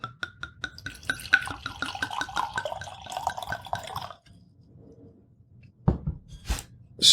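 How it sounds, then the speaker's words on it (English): Wine poured from an opened bottle into a crystal glass, a rhythmic glugging and trickle of liquid for about four seconds, then a quiet pause and a couple of sharp clinks near the end. "I'm going to pour this in the glass"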